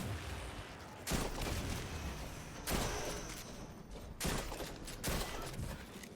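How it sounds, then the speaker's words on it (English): Shotgun blasts in Destiny's mission On The Verge, four loud broadband booms spaced about a second or more apart over a steady wash of game noise. "I'm gonna go kill him with probably the shotgun is what I'm gonna try for"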